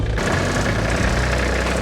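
A Kubota GL-201 tractor engine idling with a low, steady rumble and rattle, close and fairly loud throughout.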